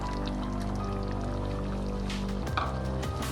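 Coconut goes into a simmering egg curry in a pan, producing a soft, wet pouring and sloshing texture over a steady low bubbling hum, ending in a few brief splashes and clinks.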